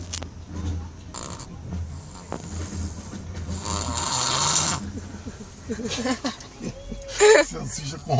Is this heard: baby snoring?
yes